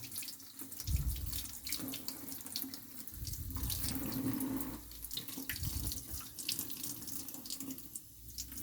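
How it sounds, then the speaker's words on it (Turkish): Tap water runs steadily into a sink as hands are rinsed during surgical hand washing, the stream splashing continuously at moderate level with small shifts as the hands move under it. "durulama işlemini ellerden başlanır, dirseğe doğru yapılır"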